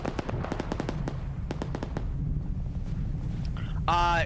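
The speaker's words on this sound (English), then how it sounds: "Javelin shot in the AO. Hits a 50 cal gun." Javelin missile fired in the Arma 3 video game striking a .50 cal gun, heard as a run of sharp, loud explosive cracks in quick succession over a rumbling battle bed, followed by a brief tonal whine at the end.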